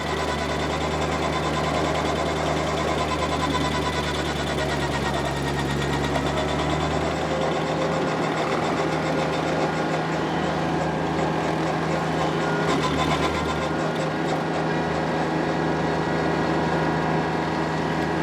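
A small tractor running a PTO-driven stump grinder grinds into a stump, a steady loud mechanical drone with a constant engine hum that holds throughout, with a brief dip in load partway through.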